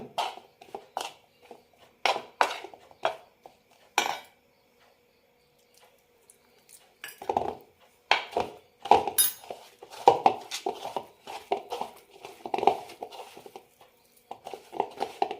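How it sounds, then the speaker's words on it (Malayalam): Carrot pieces being mixed with turmeric, garam masala, salt and other spice powders and a little water in a bowl, heard as scattered clinks and scrapes of a spoon, with a quiet pause before busier stirring resumes. "ഒന്ന് മിക്സ് ചെയ്ത ശേഷം കുറച്ച് വെള്ളം ഒഴിച്ചു കൊടുക്കാം"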